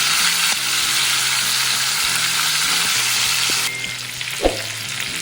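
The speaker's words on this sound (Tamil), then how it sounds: "பிரியாணிக்கு லேசாக இந்த மாதிரி வறுத்தா போதும்." Quail pieces frying lightly in oil for biryani, a loud, dense sizzle close by that drops a little near the end, with a brief clack of a utensil against the pan.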